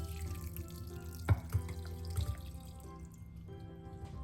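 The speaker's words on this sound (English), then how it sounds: "now we need to strain it. So I'm gonna use a mesh strainer." Homemade elderberry syrup with whole cloves, cinnamon and grated nutmeg is poured and pressed through a mesh strainer in a kitchen, making a faint, steady trickle with a couple of soft clinks.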